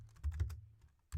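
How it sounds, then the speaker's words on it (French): Close-up typing of a command on a computer keyboard: a fast run of soft clicks, a short pause, then a final keystroke, with no talking. "puis on tape syspatch, tout s'installe automatiquement"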